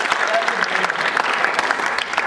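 An audience breaks into steady applause, many hands clapping close and dense throughout the short stretch, with a faint voice underneath.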